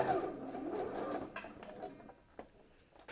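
Sewing machine hemming shirt sleeves, a quiet steady stitching whir close by that fades after a second or two into softer scattered clicks.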